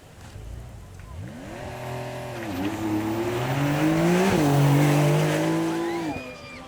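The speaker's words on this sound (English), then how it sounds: "Flag drops, turbo spool, and away we go." A turbocharged supercar at the Beaulieu Supercar Weekend launches off the line with turbo spool, its close, loud engine rising and stepping through the revs with hints of tyre squeal before cutting off abruptly.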